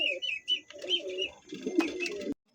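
Pigeons coo in short, soft, throaty bursts close by, several calls overlapping and pausing, with one sharp click before a brief silence.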